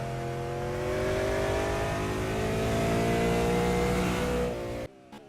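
Race car engines in the Simraceway driving game, a loud sustained high revving note climbing and shifting through gears, then cutting off abruptly near the end, no voices.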